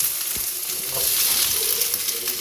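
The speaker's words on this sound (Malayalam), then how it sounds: "ചൂടായിട്ടുണ്ട്. നമുക്ക് ഇതിലേക്ക് ഉള്ളി ഇടാം" Onion sizzles in hot coconut oil in a pan, a steady, close hiss and crackle with a faint stirring sound.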